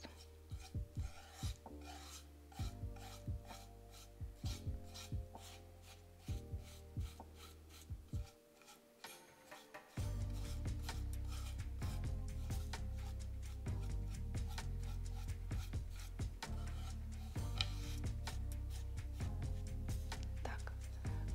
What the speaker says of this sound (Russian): Я буду наносить с помощью кисточки.